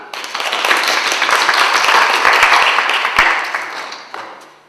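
A church congregation claps together at a joint Sunday service, the applause swelling quickly into a loud dense burst, holding for about three seconds, then fading out.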